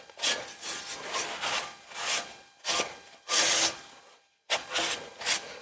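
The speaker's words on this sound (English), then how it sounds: "Give them another quick little scuff here." A metal engine part on a 1957 vehicle scuffed by hand with an abrasive, a series of close, rhythmic back-and-forth rasping strokes, each about half a second, with a short pause near the end.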